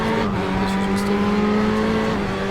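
GTE Pro race car onboard at Silverstone in a racing video game: a loud, sustained engine howl with steady tonal harmonics and slight pitch shifts, close and alone without talk.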